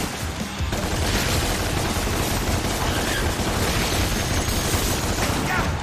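Gunfire in the video game DmC: Devil May Cry rattles in a loud, continuous barrage of rapid shots with booming impacts, filling the whole stretch with no pause.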